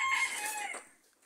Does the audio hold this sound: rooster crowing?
yes